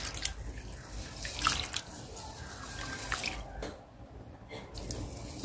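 Rice being washed with water inside a rice cooker pot, with soft trickling, dripping and wet swishing sounds at close range, mostly steady and fairly quiet throughout.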